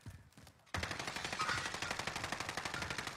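Rapid automatic gunfire from a video game, an even stream of sharp bursts after a brief quieter opening with a few shots, loud and sustained to the end.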